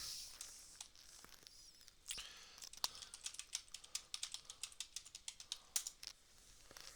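Computer keyboard typing, faint and fairly close, in quick irregular runs of key clicks with short pauses, growing busier in the second half, with no talk.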